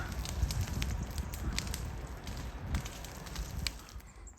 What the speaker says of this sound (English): Big bonfire.